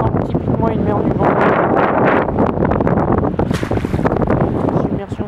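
Strong gusting wind and a stormy sea at Saint-Malo during storm Xaver at a high spring tide, loud and close with roaring buffeting noise and crashing surges, with heavy wind rumble on the microphone.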